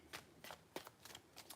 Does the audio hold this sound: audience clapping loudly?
no